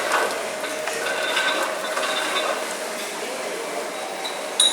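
A bottle deposit return machine in Germany takes in bottles, giving off a steady mechanical whirring with clinks and ratcheting clicks, a sharper clatter near the end, and no talk.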